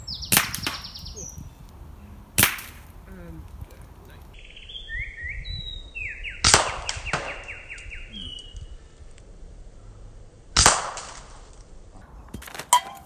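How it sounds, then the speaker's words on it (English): A Gamo Phox air rifle fires at eggs, giving four sharp, loud cracks spaced a few seconds apart, with faint birdsong and outdoor background between the shots. "Everyone loves air rifle and egg shots"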